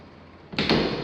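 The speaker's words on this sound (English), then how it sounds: "All the doors are working fine." Doors in a 1980s North Dallas house interior being worked: after quiet, a sudden rolling slide and then a louder close, fairly near.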